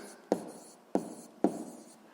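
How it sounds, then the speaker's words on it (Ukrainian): A pen writes a math answer by hand on paper in three short strokes, each starting with a sharp tap and then a soft scratchy scrawl, close and fairly quiet with no talking. "записуємо відповідь"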